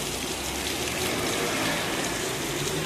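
Loud, continuous downpour in Giessen, Germany, with a thick wash of rain hitting surfaces, steady and close throughout.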